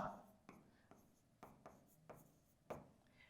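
Marker or chalk strokes writing letters on a board during an astrology lesson, a few scratchy strokes with short pauses between them, close by and fairly quiet.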